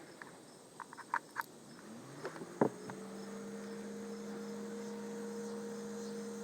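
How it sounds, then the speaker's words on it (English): An electric fan on top of a beehive switches on and spins up, settling into a faint, steady hum, with scattered buzzing of bees before it starts. "Okay, we turned our fan on."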